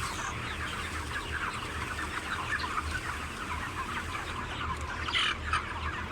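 Many chickens cluck and chatter steadily in a dusty poultry barn, a dense continuous flock murmur with a low machine hum underneath and occasional louder squawks near the end.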